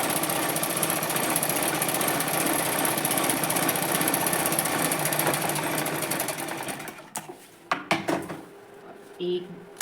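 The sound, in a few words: sewing machine stitching fabric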